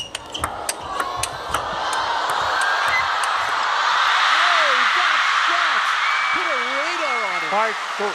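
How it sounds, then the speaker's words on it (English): Crowd at a table tennis match cheering through a rally: sharp ball pings at the start, then a swelling roar with rising whoops and shouts that stays loud, and a commentator's voice is audible partway through. "Crowd getting really into this."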